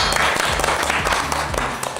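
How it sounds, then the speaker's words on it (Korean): Audience applause at a Korean esports talk show, a dense wash of clapping that starts strong and slowly tapers off over a couple of seconds. "박수 주세요"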